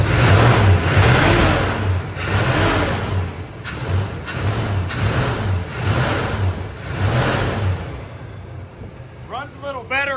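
A 1964 Chevrolet Corvette Stingray 327 V8 fitted with an Edelbrock carburetor runs close by with a loud, choppy, lumpy idle and periodic revs, steady throughout, with a brief chirpy noise near the end.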